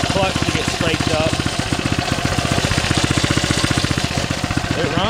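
A Coleman mini bike's small engine running loud and close, a fast, steady, chugging putter that keeps going without a break for the whole stretch.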